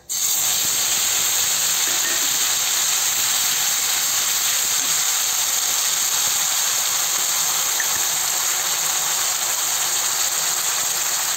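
Ground onion and garlic paste hits hot oil with whole cumin in a pan for a soya chunk curry, giving a steady, even, close hiss of sizzling that holds without letup.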